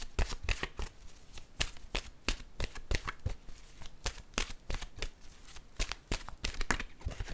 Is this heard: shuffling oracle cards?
yes